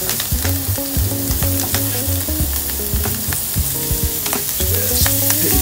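Garlic frying in butter gives a steady sizzle with stirring, layered over continuous tonal music that carries through the whole stretch at a fairly loud level.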